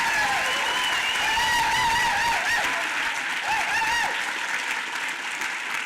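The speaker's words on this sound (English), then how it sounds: "Loud round of applause." Loud, sustained applause from a seated audience of realtors at a presentation, filling the whole stretch with dense clapping and some cheering voices.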